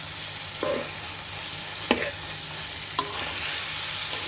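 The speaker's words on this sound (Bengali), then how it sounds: "এখন আমরা পটলগুলো দিয়ে দিব এর মাঝে এখন ভালোভাবে একটু মশলাটা মাখিয়ে নিতে হবে" Pointed gourds (potol) being stirred into a frying spice mix for a chicken-stuffed potol dolma, steady close sizzle under three or four distinct scraping strokes of the spoon, no talking.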